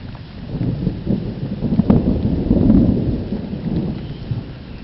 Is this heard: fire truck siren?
no